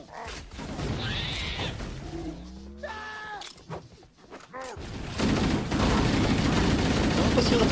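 In the Halo CE video game, bursts of gunfire and a grenade blast are heard, with sharp crackling shots, a swelling explosive rumble and mechanical effects, mixed with game voices and sounds.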